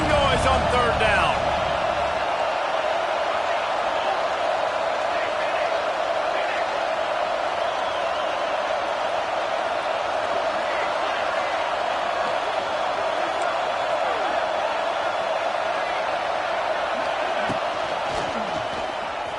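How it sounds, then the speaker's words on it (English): A football stadium crowd roars loudly and continuously on third down, forming a dense, sustained wall of noise with no breaks. "This dog crowd is off the leash, and they are coming after them, bringing noise on third down."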